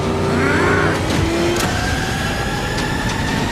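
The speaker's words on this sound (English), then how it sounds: "This is the big car chase scene that everyone is talking about" A muscle car in a Batman movie car chase scene roars with a loud, steady engine drone as pitch rises and shifts and whooshes cut through. No one talks.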